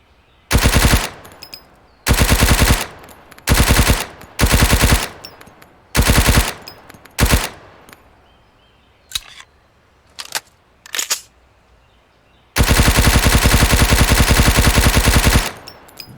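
Full-auto gunfire from a rifle in the video game Road to Vostok comes in loud, separate bursts, then several single shots, then one long sustained burst near the end, each cutting off sharply into near silence.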